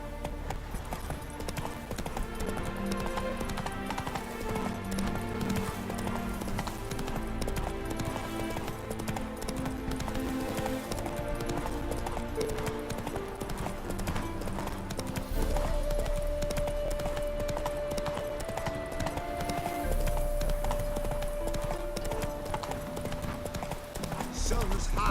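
Roach the horse gallops in The Witcher, hooves clip-clopping steadily and close through the whole stretch while background music plays.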